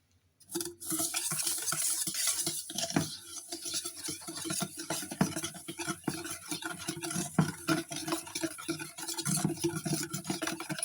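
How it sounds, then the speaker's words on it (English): Two eggs, brown sugar and a pinch of salt being stirred together in a bowl, a steady scraping, swishing rhythm close up that runs continuously with no talk. "Stir 2 eggs and 75 grams of brown sugar together with a pinch of salt."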